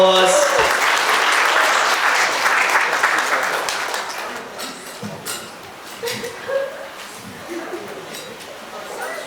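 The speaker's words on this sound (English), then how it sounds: "Please give them a warm round of applause." Wedding guests at an evening reception give a warm round of applause that fills the first few seconds, then fades into murmuring and scattered clinks with voices beginning to speak.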